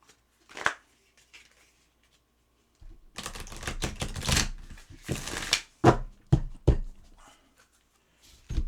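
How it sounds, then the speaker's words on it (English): Playing cards are riffled and bridged in several crisp bursts, close up, with brief taps and pauses between shuffles. "We're going to do one more shuffle."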